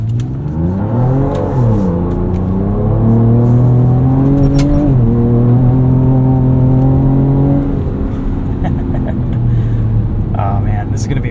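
A 2024 Ford Ranger Raptor on 34-inch Yokohama Geolandar M/T mud-terrain tires drives over wet dirt and gravel. The engine is loud and close, revving up through several rising sweeps and gear shifts, then settling into a steady drone.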